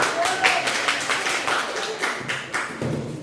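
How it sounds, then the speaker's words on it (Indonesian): A classroom of students in Indonesia gives a group that has just presented a short round of scattered hand claps and taps, close and uneven, with a few heavier thumps near the end. "Sekali lagi tepuk tangan untuk kelompok 1."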